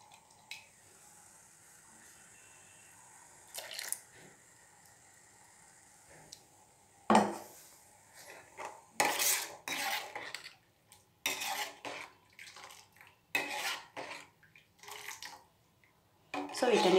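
Spoon clinks and scrapes against a pot or glass as milk is stirred into a badam (almond) milk mixture, a run of close, irregular clattering bursts over a quiet kitchen background, with a voice talking at moments.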